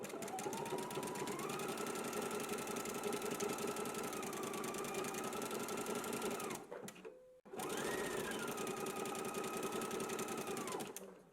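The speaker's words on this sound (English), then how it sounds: "I am using a zigzag stitch for my tie" A sewing machine runs a zigzag stitch along a tie, a loud, close, fast rhythmic whirring that stops briefly and then starts again at the same pace.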